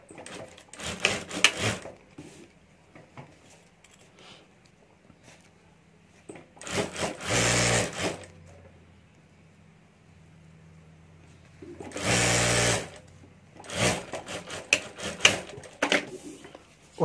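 A sewing machine runs two short stitching bursts while sewing a zipper and lining onto a handbag, surrounded by soft fabric handling and rustling at close range.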